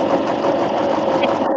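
Domestic sewing machine running steadily through a back-and-forth stitch on patchwork lace fabric, a continuous close whirring motor hum with no pauses.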